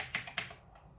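Keys pressed on a Razer BlackWidow mechanical keyboard, two crisp clicking keystrokes in quick succession followed by a softer tap, close and quiet with no speech.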